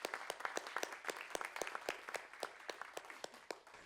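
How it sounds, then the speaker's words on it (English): A modest audience claps for a panel of Muslim and Jewish speakers, scattered individual claps forming light, uneven applause that fades gradually. "give them all a round of applause"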